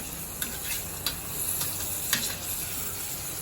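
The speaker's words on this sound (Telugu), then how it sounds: "కిస్మిస్ ఇలా వేయించుకోవాలండి. బాగా పొంగుతున్నాయి చూడండి." Raisins fry in a pan for boondi laddu, a steady close sizzle with a few sharp clicks of stirring against the pan, no voices.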